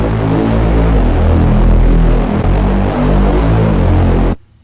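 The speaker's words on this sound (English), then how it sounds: "Reese Bass with Electric Toothbrush." A Reese bass synth patch built in Serum around an electric toothbrush sample: a loud, continuous, throbbing low drone with a buzzing, gritty texture, sustained without a break for over four seconds before cutting off abruptly.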